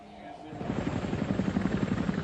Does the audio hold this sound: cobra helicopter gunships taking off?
yes